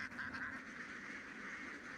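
A flock of farmed ducks quacks on a duck farm, a dense, faint, continuous chorus of overlapping calls heard from some distance with no talk.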